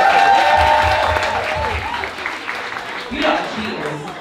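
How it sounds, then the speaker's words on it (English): Audience applause for Pat at a live birthday-special show, a steady wash of clapping with a little crowd noise, starting strong and thinning slightly, with voices talking over it. "round of applause for Pat, please"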